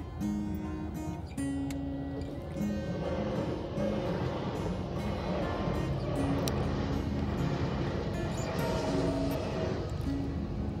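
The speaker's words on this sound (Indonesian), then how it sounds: "Nah itu keretanya sudah lewat teman-teman." A train passing by in Japan, a sustained rumble of rolling wagons with repeated squealing and clanking tones, fairly close and loud for the whole stretch.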